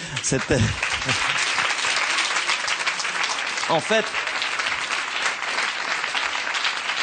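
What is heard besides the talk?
audience applause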